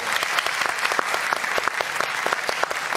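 Studio audience at a Brazilian TV talk show breaking into steady, dense applause, many hands clapping continuously at a close, even level throughout.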